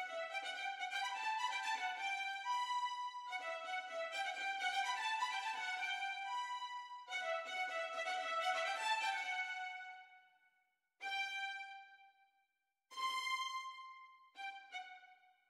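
Quiet sampled bowed strings play quick, short staccato and spiccato notes in running phrases, ending with a few separated accented marcato strokes and gaps of silence.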